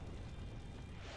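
Eye laser firing in the video game Persona 4 Golden, a short, very low, rumbling blast that holds steady and dense for about a second, with no talking.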